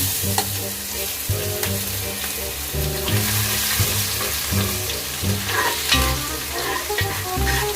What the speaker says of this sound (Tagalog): Mainit na yung ating lucirola, ilalagay ko na yung bawang.